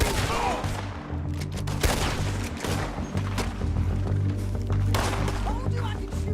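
Repeated gunshots in Red Dead Redemption 2 during a shootout, loud sharp cracks scattered irregularly over a steady rumbling backdrop, with voices talking amid the firefight.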